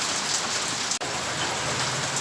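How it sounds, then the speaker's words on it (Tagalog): Heavy rain pours steadily over a small backyard chicken coop, a dense, constant hiss of drops drumming on surfaces, close and loud throughout, broken only by one brief dip in the noise. "Ang lakas ng ulan, hindi tayo makapag-video sa manok."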